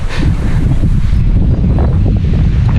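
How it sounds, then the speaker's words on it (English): Strong, steady wind buffeting the microphone, a constant low roar with faint water and surf underneath, loud and continuous throughout. "it's really windy"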